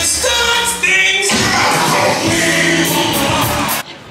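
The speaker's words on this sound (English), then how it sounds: "Crowds are starting to pick up because the sun is finally out." A busy crowd at an outdoor garden festival on a sunny, chilly spring day, with a steady blend of many voices, cheering and whoops close by and continuous throughout before dropping off at the end.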